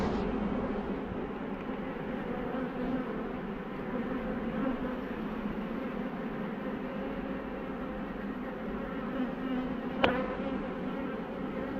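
Honeybees buzz around nuc hive boxes in a steady, close, dense hum that holds throughout, with a single sharp click near the end.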